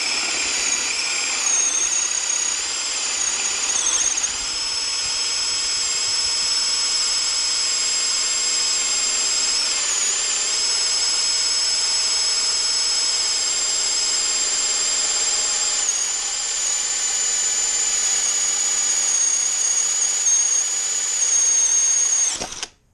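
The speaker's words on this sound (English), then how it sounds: "Got the hole dozer set, got a scrappy 2x4. We're going to start with 1 3/4 inch." A Greenworks cordless drill spins a 1 3/4 inch Hole Dozer hole saw through a scrap 2x4, a loud, steady high-pitched whine with slight dips in speed as it bites, running about twenty seconds before stopping abruptly.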